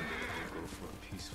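A horse whinnies loudly and close by in the Ghost of Tsushima game, with hoof clip-clops beneath it and a voice talking at the same time.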